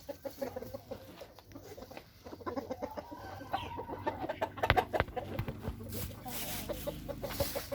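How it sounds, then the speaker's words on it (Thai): Chickens clucking on a farm, a scatter of soft clucks and fowl calls in the background amid rustling and handling noise, fairly faint and continuous over several seconds. "ส่องไก่ส่องไก่ส่องไก่ส่องมาทุกตัว"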